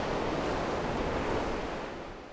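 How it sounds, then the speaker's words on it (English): Ocean surf of 3 to 4 foot waves rolls onto an Alabama Gulf beach under red flag conditions, a broad, steady wash of breaking water with some wind rumble that fades slightly at the end. "now the surf is up."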